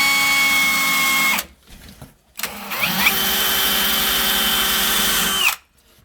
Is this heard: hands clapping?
no